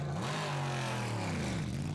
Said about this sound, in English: Engine fired then, and they will return to the track.